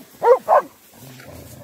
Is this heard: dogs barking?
yes